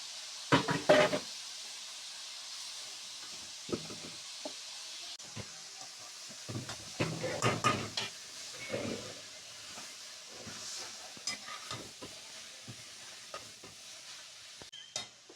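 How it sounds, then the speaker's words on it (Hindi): Pre-boiled chicken, with capsicum already in, drops into a hot pan for crispy chicken box patties and sizzles steadily, with bursts of stirring, clattering utensils and pan scrapes throughout. "चलिए अब मैं डालूंगी चिकन।"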